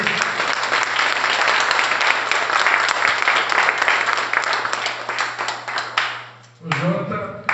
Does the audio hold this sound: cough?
no